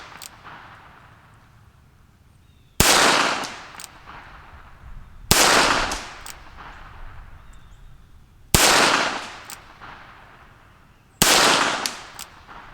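Four sharp gunshots from a Rossi Plinker .22LR snub revolver with a 2-inch barrel, fired single action outdoors, spaced roughly two to three seconds apart, each crack loud and close with a short ringing tail.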